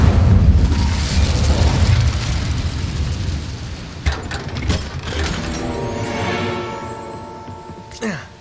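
Incendio fire spell cast in a Harry Potter video game, a loud whooshing burst of flame that decays into crackling magical shimmer and a few later sharp hits, with a voice speaking over it.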